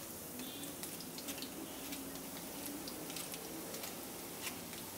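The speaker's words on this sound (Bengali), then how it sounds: "এখন আমি এর মধ্যে অল্প অল্প করে ডালগুলো দিয়ে ভেজে নেব এইভাবে নাড়তে থাকবো এটাকে" Moong dal frying in a pan as it is stirred, giving a faint, steady crackling sizzle dotted with small clicks and ticks throughout.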